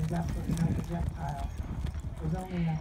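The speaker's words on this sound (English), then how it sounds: "This is Jazz. Purebred Arabian" Hooves of a purebred Arabian horse clip-clop in a steady walking rhythm at an Old West shooting event, close by, with people talking over them throughout.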